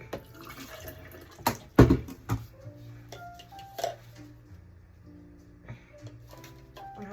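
Water splashes and drips as a syringe or container is refilled for giving medication through a GJ feeding tube, with several sharp knocks and clatters among the trickling, close and moderately loud.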